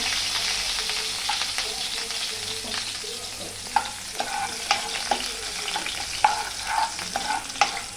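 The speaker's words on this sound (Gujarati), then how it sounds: "પછી કાંદાને બરાબર સાતડી લેવાના" Onions sautéing in a pan on low gas for pav bhaji, a continuous hissing sizzle with repeated scraping stir strokes growing more frequent, close up and without talk.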